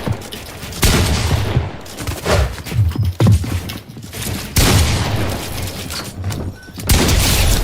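Rapid video game gunfire, loud sustained bursts of automatic shots with brief pauses between volleys, heavy and close throughout.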